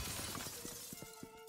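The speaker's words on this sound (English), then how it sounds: "Sounds like the window's being shattered." Window glass shatters in the online shooter game Arsenal, a faint crackle of breaking shards trailing off over about a second and a half.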